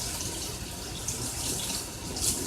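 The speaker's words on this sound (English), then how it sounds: "use cold water to wash your chicken" Cold tap water runs steadily into a kitchen sink while chicken is washed, a close continuous splashing hiss with no talk.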